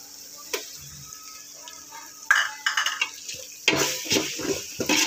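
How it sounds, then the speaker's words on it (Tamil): Onions with ginger garlic paste are stirred in a pan for mutton biryani, giving scattered metallic clinks and scrapes that start sparse and grow busier and louder in the second half, with no voices. "இஞ்சி பூண்டு பேஸ்ட்டு நல்லா பச்சை வாசனை வதங்க ஸ்மெல் போக வரைக்கும் வதக்கிட்டு பாருங்கள் ஃப்ரெண்ட்ஸ்"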